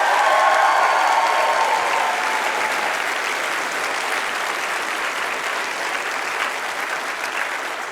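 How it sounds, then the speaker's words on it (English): A game show studio audience gives a contestant named Dan a sustained round of applause that stays steady and full for the whole stretch, fading slightly toward the end. "Big round of applause for Dan here."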